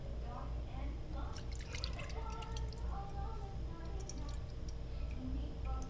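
Curdled milk and whey made with vinegar drip and trickle through a sifter, scattered small splashes and drips over a low steady background, fairly faint.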